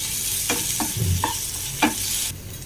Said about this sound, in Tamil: இப்போ இஞ்சி பூண்டு பேஸ்ட் ஆட் பண்ணிக்கலாம். அதை நல்லா மிக்ஸ் பண்ணி விட்டுருங்க.